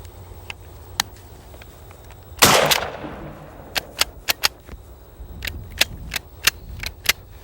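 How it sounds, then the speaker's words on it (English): A 12-gauge shotgun loaded with 3.5-inch magnum shells fires once in a loud, close blast with a long decaying roar, followed by a series of sharp, snappy cracks and clicks spread over the following seconds, with no talking. "I'm going to take a couple shots and see if it'll jam again."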